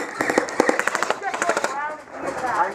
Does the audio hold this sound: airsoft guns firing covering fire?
yes